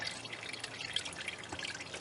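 Coolant water dribbles faintly from the radiator drain of a Ford Contour, a quiet, uneven patter of small drips and trickles.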